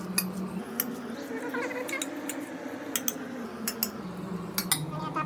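Fish being mixed with spices in a bowl, giving steady close scraping and squelching with sharp metallic clinks at irregular moments, continuous and alone.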